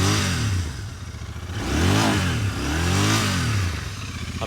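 A Royal Enfield Continental GT650 motorcycle with an aftermarket exhaust revs up from idle to around 4,000 and 5,000 rpm in two swelling bursts, a close, throaty engine note rising and falling back, with no talking.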